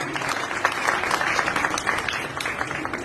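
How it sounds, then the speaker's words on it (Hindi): An audience at a temple poetry gathering claps together in a short, dense burst of applause, loud and close throughout. "पहले जोरदार एक ताली संध्या जी के लिए होनी चाहिए।"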